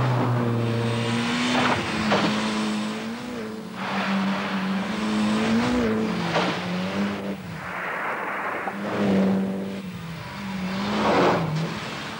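An Austin Metro drives at speed with its engine revving up and down through gear changes, loud and close throughout, with a hissing rush of road noise.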